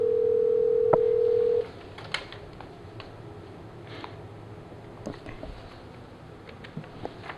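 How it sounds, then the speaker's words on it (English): A Polycom IP 650 desk phone plays a steady, loud dial tone that stops after about a second and a half, followed by quiet line hiss with faint clicks. "the speed dial calls another person directly"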